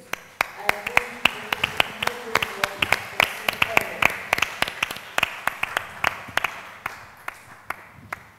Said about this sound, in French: Merci d'applaudir très fort pour accueillir M. Jean-Luc